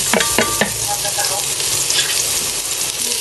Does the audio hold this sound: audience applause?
no